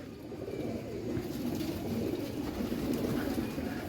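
Domestic pigeons kept at a home loft coo in a low, steady murmur of overlapping calls that continues throughout, fairly close and moderately loud.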